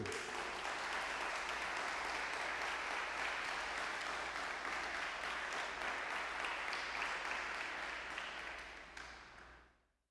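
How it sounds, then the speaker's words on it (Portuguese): Congregation applause fills a church during a sermon, a continuous, even wash of clapping heard at low level over a faint steady hum, tapering off and fading out at the end. "Dê uma salva de palmas para Ele."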